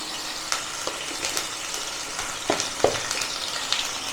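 Ginger garlic paste fries in a pan with a steady sizzle, broken by a few sharp spatters and clicks of a spoon against the pan, alone with no talking.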